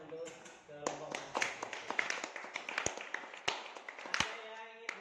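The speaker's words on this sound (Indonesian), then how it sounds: "berikan tepuk tangan untuk kelompok Mas" A few scattered hand claps ring out in a classroom after a student group presents on car electrical parts, with voices talking throughout.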